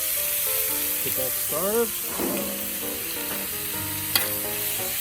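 Large shrimp sizzle and fry on a Camp Chef FTG600 flat top griddle, a steady loud crackle with stirring scrapes throughout, while someone speaks briefly over it.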